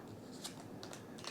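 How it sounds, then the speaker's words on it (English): A deck of cards from the Apiary board game is riffle-shuffled, giving faint, soft papery crackles in a few quick bursts over quiet background hiss, with no talking. "give that a good little riffle deck shuffle there"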